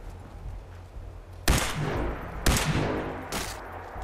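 Three loud, sharp gunshots ring out in Fallout 4, evenly spaced about a second apart, each with a long rumbling tail over faint background noise.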